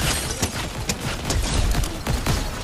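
Rapid bursts of gunfire crackle repeatedly in Fortnite, loud and dense, with sharp overlapping shots and booms in quick irregular succession.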